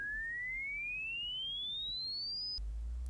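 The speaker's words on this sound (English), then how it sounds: "just a sine wave going up and then looping." A pure sine wave tone sweeps steadily upward in pitch for about two and a half seconds, then cuts off abruptly, leaving near silence.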